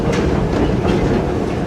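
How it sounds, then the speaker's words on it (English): Historic tour train running on its tracks at St Nicholas Abbey, Barbados, giving a loud, steady rumble with rhythmic clatter of wheels on rail, close by and without talk. "Our train is going to come to a stop."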